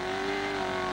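A sporting trial car's engine revs hard as the driver pours on power, a loud, steady, strained drone held close for about a second with no talk over it.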